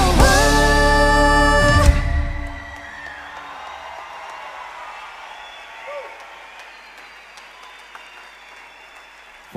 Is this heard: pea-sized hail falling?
no